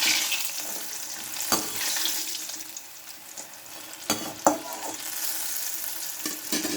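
Food fries in oil until crispy with a steady, moderate bubbling sizzle, broken by occasional sharp clicks and scrapes of stirring.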